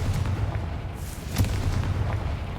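A spell-blast explosion in the game Hogwarts Legacy, a deep booming rumble with a sharp burst near the middle over low continuous background.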